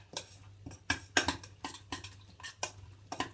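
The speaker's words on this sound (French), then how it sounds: "De nouveau, je mélange." A utensil stirs Thai chicken laab salad with mint and lime in a bowl, giving a series of quick, close scraping clinks and taps in an uneven rhythm, with no talk.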